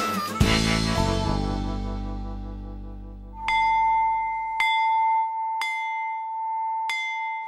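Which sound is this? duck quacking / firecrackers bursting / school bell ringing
school bell ringing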